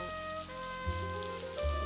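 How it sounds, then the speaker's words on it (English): Steady rain falls during a romantic film scene, a soft continuous hiss blended under sustained music tones, with no speech. "We can start by getting out of this rain."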